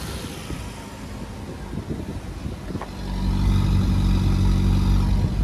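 A 2022 Dzire VXI CNG car engine idles quietly, then catches and settles into a louder, steady low rumble for the rest of the time.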